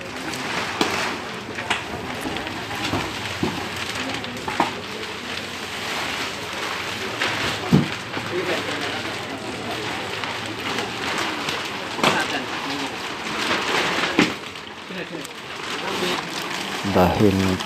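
Steady rain falls continuously outdoors, a dense hiss running throughout with occasional louder drops and birds calling, while voices talk over it.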